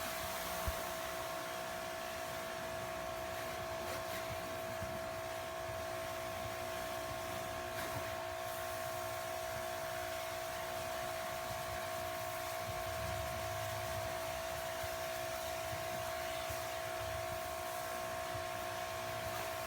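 A 2000 psi electric pressure washer runs steadily throughout, a continuous motor whine with a hissing water spray rinsing foam off a car, evenly loud and close with no pauses.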